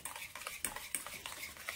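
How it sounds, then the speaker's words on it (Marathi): A spoon stirs and mixes a curd mixture in a bowl, making a quick series of light clinks and scrapes at a steady, close pace with no talking. "हे व्यवस्थित मिक्स करून घ्यायचं"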